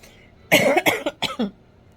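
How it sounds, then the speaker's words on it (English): A short burst of coughing, three or four dry hacks in quick succession, close to the microphone in an otherwise quiet room. "Now I'm gonna cough."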